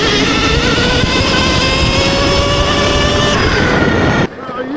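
Fully upgraded Sur-Ron electric dirt bike with aftermarket controller and battery, ridden hard: a loud, continuous high electric motor whine with rising and falling tones over rushing wind, cutting off abruptly near the end.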